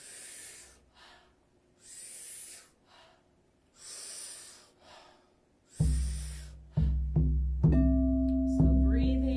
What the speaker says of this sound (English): Powerful inhale, soft exhale.